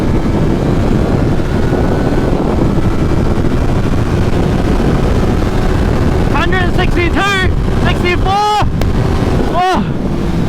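A Yamaha MT03 300cc motorcycle engine roars continuously while riding, mixed with heavy wind rush and rising revs, with a voice heard briefly toward the end.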